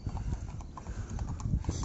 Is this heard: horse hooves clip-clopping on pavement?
yes